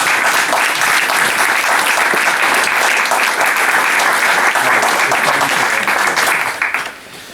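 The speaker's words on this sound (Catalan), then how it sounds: "Això que acaba de dir mereix un aplaudiment." An audience at a talk breaks into sustained, loud applause, a thick even wash of many hands clapping for several seconds before tapering off at the end.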